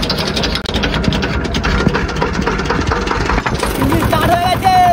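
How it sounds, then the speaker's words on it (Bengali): A boat's engine starts and settles into a steady, loud idle on a Sundarbans river, with a dense rumble filling the whole stretch while people talk over it. "ইঞ্জিন স্টার্ট হয়ে গেছে।"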